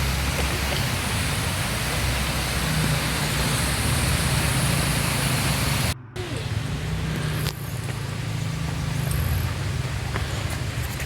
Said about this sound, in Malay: Jadi kita boleh mendengar deruan air yang segar di sini.